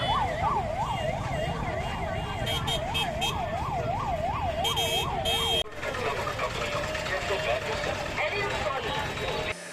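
Ambulance siren wailing in a rising-and-falling pattern on a road stuck in a traffic jam outside a school, loud and steady over dense traffic noise and honking, then cutting off partway while traffic rumble continues.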